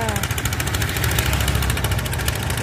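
A steady, chugging boat engine runs loud and close, its rapid pulsing beat continuous throughout.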